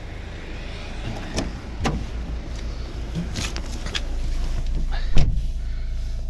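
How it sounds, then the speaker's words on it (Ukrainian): A 2012 Volvo V50 1.6 D2 diesel engine idles steadily and smoothly at close range, with a few faint clicks and knocks over the low hum. "автомобіль заведений, ні парів, ні диму немає, нічого. Дуже рівно тихо працює"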